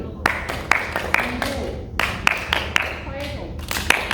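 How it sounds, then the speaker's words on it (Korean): Students clapping during a name game in a middle-school PE class, with sharp bursts of claps arriving in short groups between spoken names and classroom voices. "김병훈, 맞아, 박수 쳤어요."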